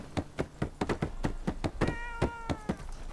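A video game cat meows over a steady run of rhythmic thuds or knocks that repeat about every quarter second, with a clear tonal meow in the middle of the sequence.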